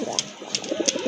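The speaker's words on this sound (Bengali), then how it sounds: "মাশাল্লাহ আরেক জোড়া কবুতর দেখতে পাচ্ছেন" Pigeons cooing at a pigeon seller's shop, including a pair of local Rajgolla pigeons, with a few soft, short coos and brief calls spread over a second against a murmuring background.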